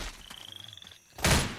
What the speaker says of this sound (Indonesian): Kodok juga masih ada.